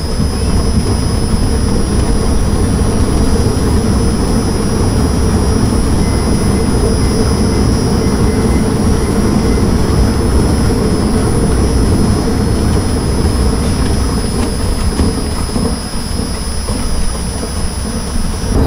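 A KADZAMA 57 kg chocolate melangeur runs with its grinding stones, giving off a loud, continuous, rumbling grind topped by steady high mechanical whines that hold unchanged from start to finish, with no talking.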